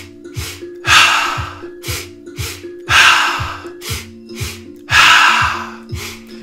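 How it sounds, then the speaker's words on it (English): Dynamic breathwork pattern of two quick sniffs in through the nose followed by one longer breath out the mouth, repeated steadily in a fast rhythm, close and clear with no talking. "We're going to move on to two breaths in the nose, one breath out the mouth."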